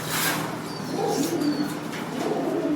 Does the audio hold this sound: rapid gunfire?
no